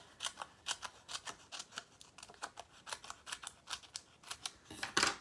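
Scissors cutting paper stocking shapes for Christmas tags, a quick regular run of close, crisp snips repeating throughout, with no talking.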